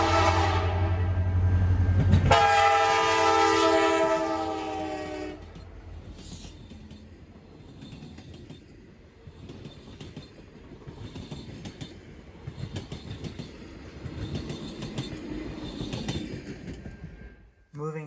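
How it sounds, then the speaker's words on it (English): Alaska Railroad Denali Star passenger train between Anchorage and Fairbanks, its horn blaring loud and close for a few seconds before the rumble and clatter of passing cars carry on steadily beneath. "This train is the flagship of the Alaska Railroad and runs daily in each direction between Anchorage and Fairbanks"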